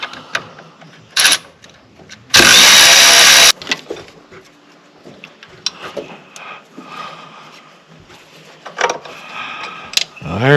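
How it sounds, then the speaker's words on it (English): A cordless ratchet with a half-inch socket zips out carriage bolts on a Scag Wildcat mower: one loud buzzing run of about a second, among scattered clicks, taps and handling noises. "I'm gonna go get my cordless ratchet with a ½ inch socket"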